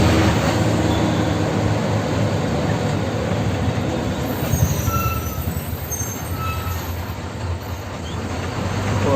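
A train rolls across a rail bridge in Mumbai, a loud continuous rumble of wheels on track with faint squeals, steady throughout with no voices.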